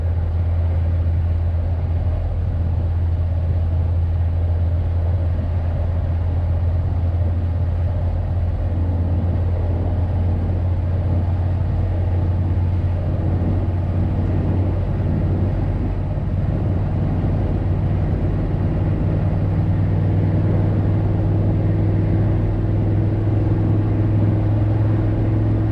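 A Chevy Suburban with a newly fitted muffler drives along, its exhaust a steady, low, quiet rumble that holds constant throughout without sharp revs.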